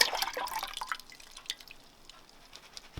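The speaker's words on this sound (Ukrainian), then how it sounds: "наливаємо молоко і додаємо трошечки води, аби воно не було нам таке дуже жирне" Milk with a little water being poured into a cooking pot in a village kitchen, heard as quiet trickling and dripping, busiest at the start and thinning to sparse drips.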